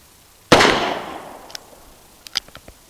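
.44 Special handgun fires a single loud shot that rings out and decays over about a second, followed by a few faint clicks and taps.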